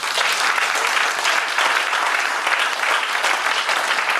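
A church congregation applauding in praise of the Lord, with dense, steady clapping that fills the room from start to finish and no clear voices over it.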